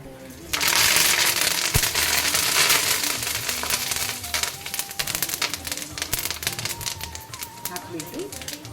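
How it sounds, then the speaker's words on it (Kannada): Hot oil crackles and spatters in a pan with turmeric and neem leaves added, a dense burst of sharp pops that settles into scattered sputtering with faint voices in the background. "ಚಟ ಚಟ ಗುಡ್ಲಿಕ್ಕೆ ಸ್ಟಾರ್ಟ್ ಆಗಿದೆ ಎಣ್ಣೆ ಕಾದು"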